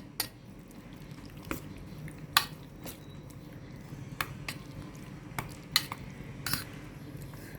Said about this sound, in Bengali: সবটা মেশানো সবটা একসঙ্গে মিশিয়ে নেব